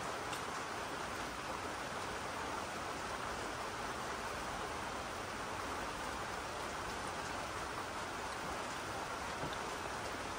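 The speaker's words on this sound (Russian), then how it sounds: "На улице дождь" Steady outdoor rain falling, a dense, even hiss of drops that stays constant and fairly loud throughout with no voices.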